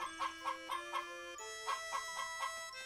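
Chickens in the video game Blue Dragon give rhythmic, tonal clucking calls in two short bursts, clear and moderately loud over a faint background, with no talking.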